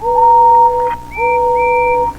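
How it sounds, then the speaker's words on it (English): Steam engines blow their whistles, two loud sustained tonal blasts with a short gap between them, the second layered with a higher overlapping pitch. "they all blew their whistles angrily."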